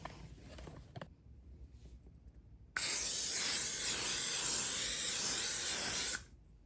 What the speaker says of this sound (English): there goes the cooking spray